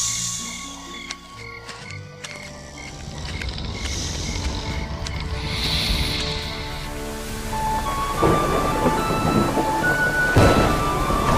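Rumbling thunder rolls over a stormy river amid steady rain and rushing water, a dense, continuous roar that swells louder toward the end, with no voices.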